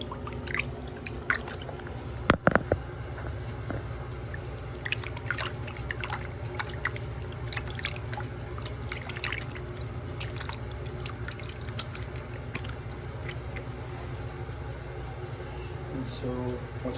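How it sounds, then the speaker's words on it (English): A hand coated in wet plaster of Paris is rinsed in a bucket of fresh water, giving soft drips, small splashes and trickles over a low background hum, with some quiet talking. "Go ahead and rinse your hand off."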